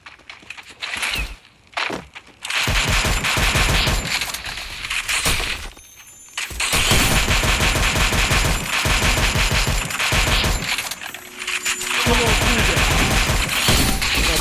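Rapid bursts of gunfire in the Free Fire video game, dense automatic volleys and sharp shots over sustained loud stretches with brief quieter gaps, while players talk throughout.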